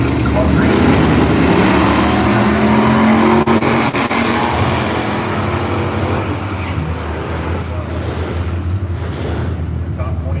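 Drag race cars roar at Firebird Raceway in Idaho, a loud sustained engine blast that fades slightly as the cars pull away, with a commentator talking over the noise.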